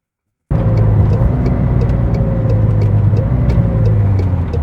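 McLaren 720S sports car cruising in regular drive mode, a steady low engine drone and road rumble heard from inside the cabin, starting abruptly and holding constant without revving.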